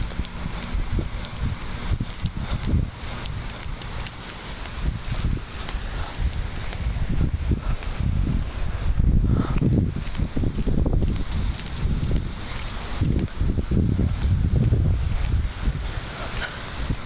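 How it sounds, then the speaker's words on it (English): Gusting wind during Hurricane Irene on a wet roadside, a steady broadband roar that swells and buffets the microphone in stronger surges around the middle and later, with rustling and no talking. "definitely still some gusts"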